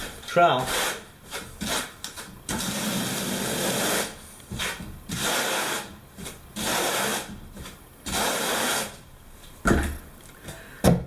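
A trowel spreads tile adhesive across the back of a tile in repeated scraping, rasping strokes of a second or two each with short gaps between, close and moderately loud, with no talk.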